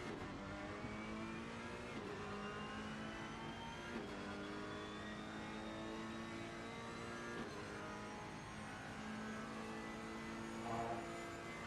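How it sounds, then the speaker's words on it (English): A Ferrari race car engine in the Assetto Corsa Competizione video game, a continuous faint engine drone whose pitch climbs, dips and climbs again through gear changes, heard alone without talking. "Ferrari sounds well hooked up."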